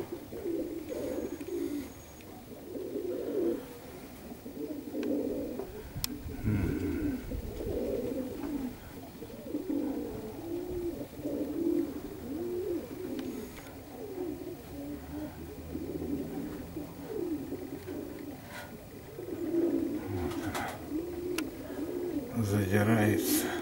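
Perm pigeons coo in a continuous low, burbling chorus at close range, rolling on throughout with occasional wing flaps and faint background voices.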